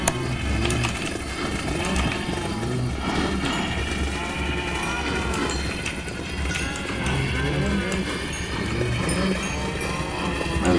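Cows mooing in a video game: a herd of cattle lowing repeatedly, several overlapping moos rising and falling over a steady farmyard background throughout.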